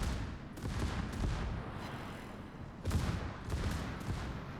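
Battleship guns fire a salvo in a naval video game, rolling booming shots in clustered bursts with rumbling low end over steady background noise.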